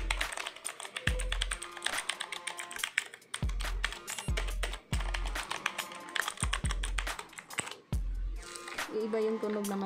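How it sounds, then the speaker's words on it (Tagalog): Fast, crisp clacking from typing on a Redragon K552-BB mechanical gaming keyboard, with dense irregular keystrokes and occasional heavier thocks, close up, under a voice talking. "Iba yung tunog guys ng mechanical keyboard."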